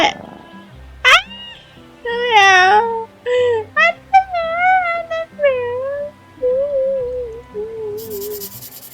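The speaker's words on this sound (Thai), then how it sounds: "เฮ้ยเอ้ยมีน้องแมวได้" A cat meows repeatedly indoors in a room, a series of clear, rising-and-falling meows close by, some short and some drawn out, with brief pauses between them and a faint hiss at the end.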